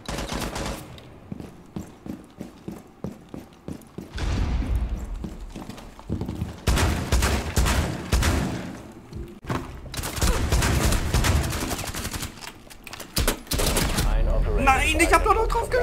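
Gunfire in the video game Rainbow Six Siege, starting as scattered sharp single shots, then breaking into long dense bursts of rapid fire with short pauses between them, loud and close throughout.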